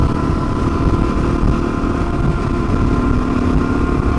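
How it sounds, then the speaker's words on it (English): A KTM 690 motorcycle is ridden around a lake, its engine droning loud and steady at constant speed with wind noise throughout and no voices. "I love riding my 690 around lakes."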